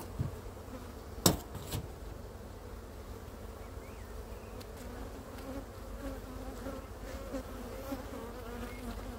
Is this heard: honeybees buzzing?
yes